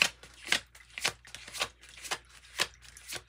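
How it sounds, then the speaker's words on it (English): Tarot cards are shuffled and drawn by hand, a series of quick riffling bursts and soft snaps in an uneven rhythm, close and fairly quiet. "Let me get another card for Cancer"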